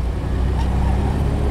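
A 1989 Toyota Land Cruiser with a six-cylinder engine on a test drive, heard as a steady low engine and road rumble from inside the cabin, continuous and fairly loud with no voices.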